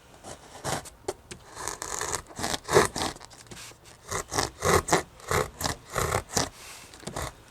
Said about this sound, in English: What I'm going to do is start it with this box cutter, and then use the hacksaw blade